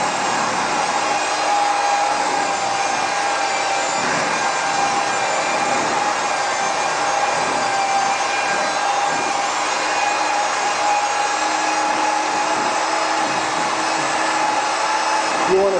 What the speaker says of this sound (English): just moving the dispersion blade up and down in a turning type motion will start to loosen that coating